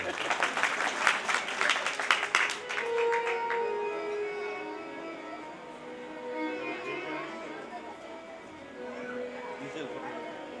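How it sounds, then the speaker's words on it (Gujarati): Audience applause at a Shrimad Bhagwat Katha religious gathering in Ankolwadi, Gir, a burst of crowd clapping for a few seconds that fades as a voice continues speaking. "એકવાર જોરદાર તાળી"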